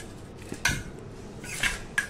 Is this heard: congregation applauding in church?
no